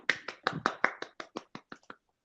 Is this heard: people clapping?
yes